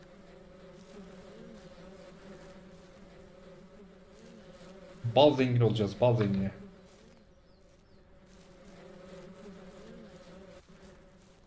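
A steady bee buzzing in Ranch Simulator hums throughout, with a person talking over it in a brief louder burst near the middle.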